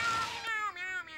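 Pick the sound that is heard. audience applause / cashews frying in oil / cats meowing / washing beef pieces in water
cats meowing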